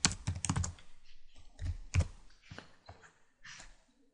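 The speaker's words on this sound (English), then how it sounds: "just we're going to search it by typing this command" Typing on a computer keyboard to enter a command at the Windows command prompt: a burst of close, crisp key clicks in an uneven rhythm, then a few more scattered taps trailing off.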